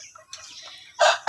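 Backyard chickens and a rooster on a rural Philippine farm cluck and call softly, then break into two loud, close bursts of squawking or crowing at the end.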